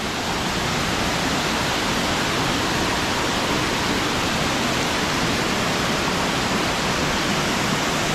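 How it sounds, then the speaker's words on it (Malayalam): The Oliyaruk (Erappu) waterfall pours in a loud, unbroken roar of rushing water, close by and steady from start to finish with no other sounds. "വലിയൊരു വെള്ളച്ചാട്ടം തന്നെയാണ് കേട്ടോ."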